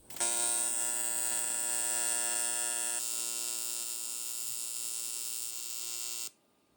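Steady electric buzz of a welder joining a steel box-section swingarm for a custom motorcycle, loud and continuous for about six seconds with a slight change partway, then cutting off abruptly.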